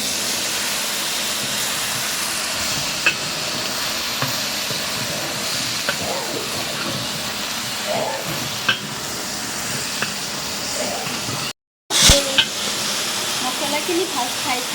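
Cabbage frying in a pan with ginger, green chilli and spices, a steady sizzle and hiss with occasional stirring scrapes, fairly close, broken by a brief cut near the end.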